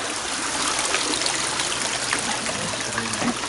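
A natural spring trickles and babbles steadily nearby in Jasper National Park, a constant bright splashing flow with no voices.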